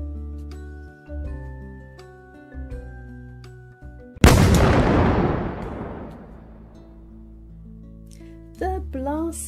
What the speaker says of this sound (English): Patrick loved to let off the cannons.